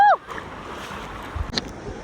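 Ocean waves wash in at Cocoa Beach as a steady, rushing surf mixed with wind buffeting the microphone, after a brief voice at the very start.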